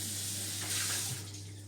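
Hot tap water runs into a kitchen sink while baking trays are washed up, a steady hiss of flowing water with a brief swell of splashing midway, heard alone at moderate level.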